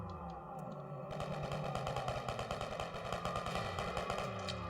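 Rapid automatic AK rifle fire in the video game MDI Shooter, a dense sustained burst of loud shots after a brief quieter opening, with no talking.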